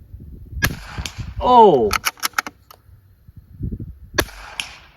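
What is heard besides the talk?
bolt-action rifle shots at steel target at 100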